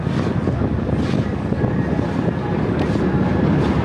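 Subway trains rumble beneath a street grate art installation in New York City on a frozen winter day, a steady, loud low roar that fills the whole stretch without a break.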